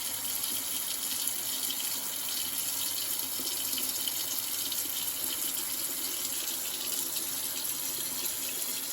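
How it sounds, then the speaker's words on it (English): Tap water runs steadily into a bucket set in a sink, the warm, room-temperature stream making a continuous broad hiss and splash at a constant level throughout, with no talking. "So now I'm just going to set the bucket in here and let it fill up all the way."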